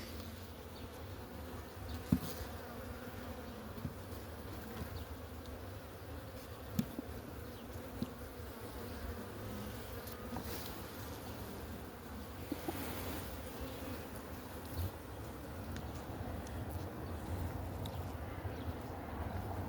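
Honeybees buzz steadily around a beehive frame outdoors in fine weather, a continuous close insect hum with a few faint clicks and no talk.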